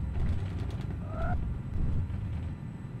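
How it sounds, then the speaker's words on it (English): Simulated landing gear on a Challenger 300 retracts in X-Plane 10, a creaking mechanical whir with a brief rising whine in the middle, over a loud continuous cockpit engine rumble. "Positive right gears coming up."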